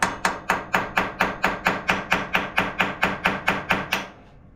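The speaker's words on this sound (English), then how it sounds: "let me take that little chisel I had. I'm gonna see if I can chisel straight across it." A small chisel struck repeatedly with a hammer against a valve cover bolt on a Craftsman DLT3000 riding mower, about seventeen sharp, evenly spaced metallic blows, close and loud, then stopping.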